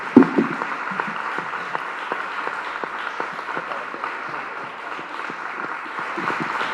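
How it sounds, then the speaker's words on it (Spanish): Audience applause at a literary festival colloquium in Antequera, steady sustained clapping from a crowd filling the room, moderately loud with faint murmurs. "nosotros tenemos un aplauso para él y de verdad."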